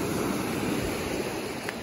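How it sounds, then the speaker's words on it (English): Ocean surf rolling onto a sandy beach on Christmas Island, a steady broadband wash with wind buffeting the microphone throughout and no distinct breaking crash. "So this is the ocean."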